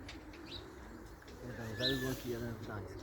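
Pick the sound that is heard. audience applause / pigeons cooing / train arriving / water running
pigeons cooing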